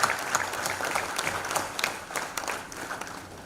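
An audience at a graduation ceremony applauds, a dense, even patter of many hands clapping at moderate volume that carries on steadily without talk.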